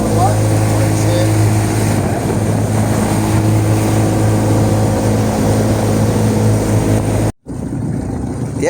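Motorboat cruising on a lagoon, a loud steady engine drone with water noise close by, then a brief cutout before the motor sound returns. People talk over it.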